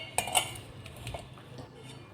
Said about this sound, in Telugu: ఉప్పు కారం అంతా ఈవెన్గా కలిసేటట్టు మొత్తం ఒకసారి కలుపుకోవాలండి